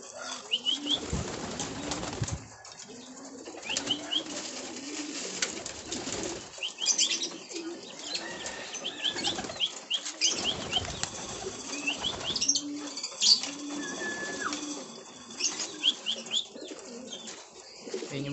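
A flock of pigeons being fed coo steadily in low, rolling phrases while wings flap in repeated bursts, with occasional chirps, all close and continuous with no voices.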